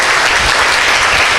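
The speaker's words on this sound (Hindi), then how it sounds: "चलिए, बिहार का वर्तमान शिक्षा व्यवस्था पे एक बार आप लोग ताली बजाइए।" A crowd of students applauds together, a dense, loud burst of clapping filling the short moment.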